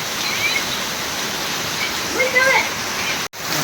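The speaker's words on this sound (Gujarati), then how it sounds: "અત્યારે પવન પણ વધારે ચડી ગયો પવન ને વરસાદ" Heavy rain pours down with strong wind, a dense, loud, continuous hiss and roar with no letup, broken only by a brief dropout near the end.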